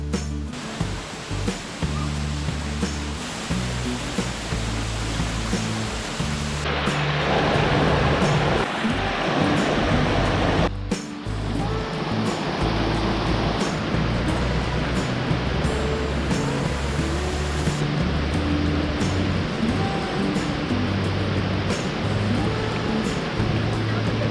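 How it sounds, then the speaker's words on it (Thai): A waterfall rushes beside a camp-style coffee shop, a loud, continuous roar of falling water close by that swells slightly partway through. "เราก็จะเห็น น้ำตก ไหลไปเรื่อย ๆนะครับ"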